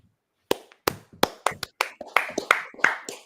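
Sharp hand claps from a man on a talk show set, about nine of them in a steady, slightly quickening rhythm, loud and close, after a moment of silence.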